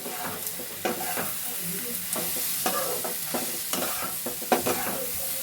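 A fish roe fritter fries in a pan as a metal spatula taps and scrapes through it in a series of sharp cuts over a soft steady sizzle, close by, with no speech.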